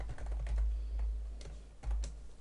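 Quick clicking keystrokes on a computer keyboard, fairly faint and close, in a short irregular burst with a pause between taps.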